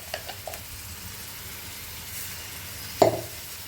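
Grated carrot for carrot halwa going into a heated pan, a soft steady sizzle with a few light taps and one louder clank near the end, no talking.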